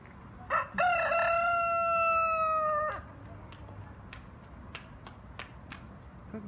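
A rooster crows loudly once, a long drawn-out call, followed by scattered soft clucks and clicks from Cochin chickens nearby at an outdoor exhibition.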